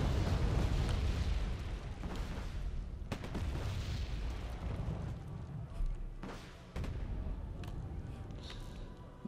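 Dense, rumbling barrage of artillery booms and blasts from Paladin self-propelled guns firing counter-battery in the Wargame Red Dragon battle at Wonsan, sustained and loud with sharp bursts through the clip.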